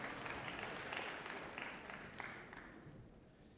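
Audience applause at an evening talk by R' YY Jacobson, a dense steady wash of many hands clapping, loud at first and easing slightly toward the end, with no voices over it.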